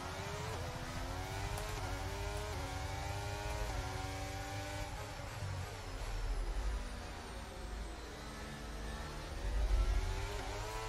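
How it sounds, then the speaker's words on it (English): A race car's engine revving hard with wheel spin in a racing video game, the pitch climbing and falling in repeated surges, loud and close with no talk. "Oh, wheel spin."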